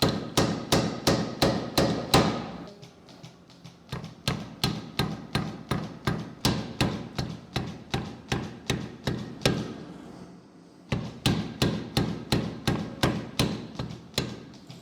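Steady rhythmic hammer blows ring out on hot steel while a diagonal peen blacksmithing hammer head is forged and chamfered, loud close strikes in quick runs separated by short pauses.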